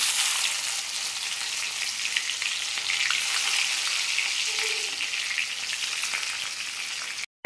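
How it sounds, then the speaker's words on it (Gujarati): Cumin seeds and chillies sizzle in hot oil in a kadai, giving a loud, steady, close frying hiss that runs continuously before cutting off abruptly at the end. "તેલ ગરમ થઈ ગયું છે એટલે આપણે એમાં જીરું એડ કરીશું. ત્યારબાદ આ મરચાં એડ કરીશું."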